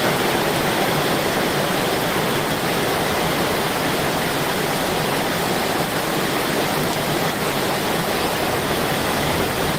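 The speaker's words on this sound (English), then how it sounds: "it's raining so hard" Heavy rain pours down onto streets as a dense, unbroken roaring hiss, loud and even for the whole stretch, with no voices.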